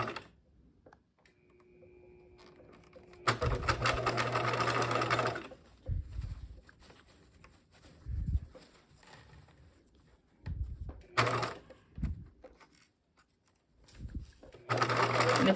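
A sewing machine runs in several short bursts, stitching a quarter-inch backpack seam, its fast whirring rattle loud and close, with quiet pauses, pin handling and soft fabric shuffling between runs.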